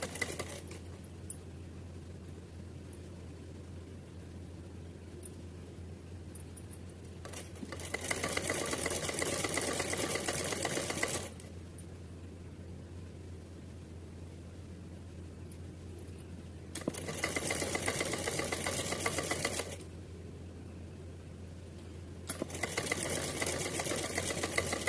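Sewing machine stitching a twice-folded fabric hem on a small cap, running in three bursts of fast steady whirring several seconds long, separated by quiet pauses with a low hum, fairly close.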